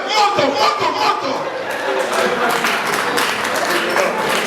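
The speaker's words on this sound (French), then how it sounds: "Ça s'applaudit avec beaucoup plus de gentillesse, hein?" Audience applause at a Women's Day event in Geneva, a steady wash of clapping mixed with crowd chatter and some laughter, fairly loud and continuous throughout.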